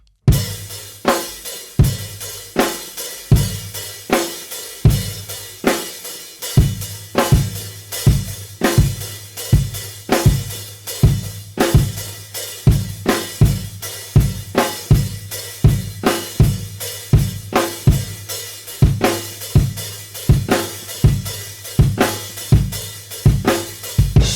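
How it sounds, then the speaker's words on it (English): A steady rock drum groove with regular kick and snare hits and ringing open hi-hat accents, played alone at a moderate tempo with no voices. "the same exercise, slowing it down using the open hi-hat and all those accents will sound like this"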